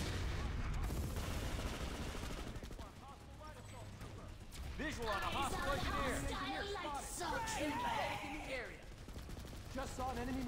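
Rapid automatic gunfire in the online shooter PlanetSide 2, with bursts of shots and explosions layered over one another in a busy battle, while voices chatter over the game sound.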